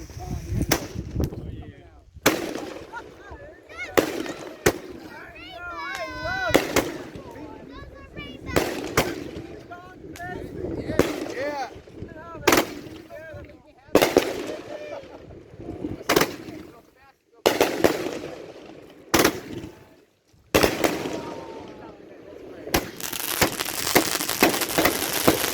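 Fourth of July fireworks show on Smith Island, where mortar shells fire and burst in a string of sharp, loud booms and cracks at irregular intervals, with short quieter gaps between blasts.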